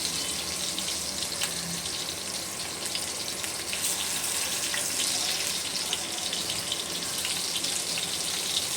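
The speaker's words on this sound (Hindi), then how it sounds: "दोनों तरफ अच्छा से गोल्डन होने तक का ना हम फ्राई करेंगे" A seekh paratha fries in a hot oiled pan, giving a steady, loud, dense sizzle that runs unbroken from start to end with no voices.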